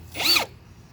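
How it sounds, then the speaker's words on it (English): A power drill bores a hole into the side of a van in one short, near burst lasting under half a second, then stops into quiet. "I have to drill a hole for the support bracket"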